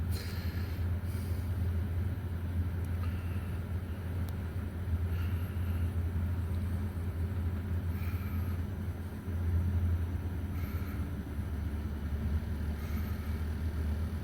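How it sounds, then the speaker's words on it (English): Air conditioner compressor running on a home solar power setup, a faint, steady low hum with a slight swell partway through, alone and without speech. "Oh, there's compressor speeding up."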